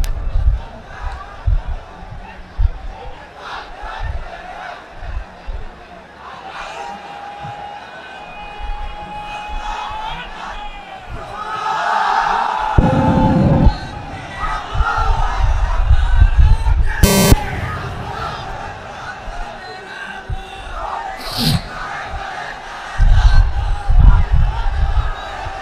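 A large crowd at a Bangladeshi Islamic sermon gathering shouts a takbir chant back to the preacher, several loud surging call-and-response bursts mixed with reverberant public-address speech.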